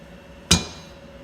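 Single soft metallic bump as a valve spring compressor squeezes a valve spring from a Buell XB12R motorcycle and the keepers release, one brief close thud against a quiet workshop background.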